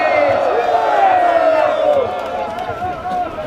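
A crowd at a Korean political rally for democracy and intelligence-service reform roars and cheers, with whoops and clapping, close and loud at first, then easing off while a voice carries over the noise.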